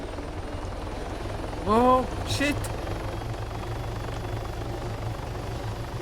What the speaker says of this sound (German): Der Heli fliegt noch?